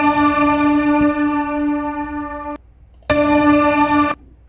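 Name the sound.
synth pluck with sustained reverb tail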